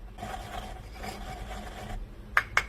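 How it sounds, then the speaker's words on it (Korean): Hard natural seasoning ground into powder while cooking stir-fried sweet potato stems gives a faint, steady rasping grind for about two seconds, followed by two sharp knocks. "요 천연 조미료도 딱딱하니까 한번 이렇게 갈아 줄게요"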